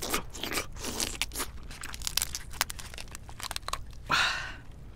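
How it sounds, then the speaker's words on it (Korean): Close crunching and cracking of spiny Hanasaki king crab legs, with the shell-covered legs dipped in crab roe and eaten, in a run of sharp snaps and chewing bursts ending in one louder crackling tear. "이번엔 게 다리들을 좀 이 안에 있는 황장에다가 좀 찍어 먹어볼게요."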